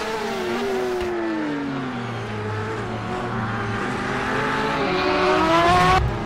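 A race car in a sim racing video game pulls out of the pits after a pit stop, its engine droning and rising steadily in pitch, loud and close, with no talk over it.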